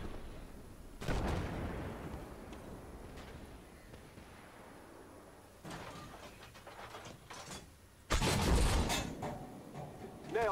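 2S1 Gvozdika self-propelled howitzer firing in the Armored Warfare video game: a few sharp, loud cannon shots with rumbling tails at intervals, the last and loudest near the end, over quieter background noise.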